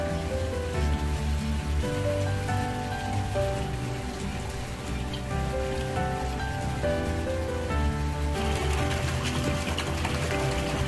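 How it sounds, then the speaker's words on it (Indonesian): Light drizzle falls steadily outdoors beside a catfish pond, a dense, even patter of small drops on surfaces that holds at the same level throughout, with no voices. "Ini hujan gerimis."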